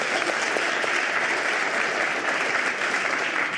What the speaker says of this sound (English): really good round of applause.